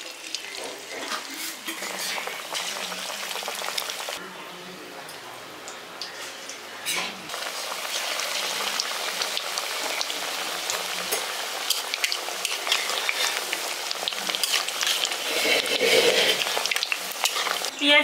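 Onion fritters (piyaji) dropped one by one into well-heated white oil hiss in a steady, dense deep-fry sizzle throughout, growing slightly louder toward the end, in a village-style kitchen.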